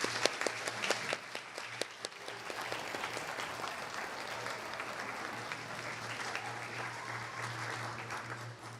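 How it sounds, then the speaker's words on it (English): Round of applause from the audience for election candidates at a student union results night, dense steady clapping that starts sharp and settles into a continuous patter, fairly distant and soft. "Please, if you could join me in giving the candidates a massive round of applause."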